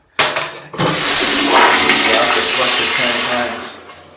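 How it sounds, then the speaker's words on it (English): A low-flush, low-noise toilet flushing loudly: a sharp click of the handle, then a rushing gush of water that swirls steadily for about three seconds before tapering off, close up with no talking. "It's a low flush, low noise toilet, so it still makes lots of noise, and you have to flush it at least 3 times"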